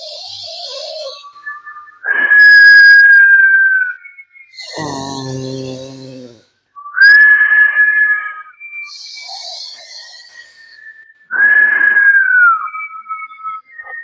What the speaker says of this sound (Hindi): लेफ्ट से सांस लेंगे और मुंह से सीटी बजाते छोड़ेंगे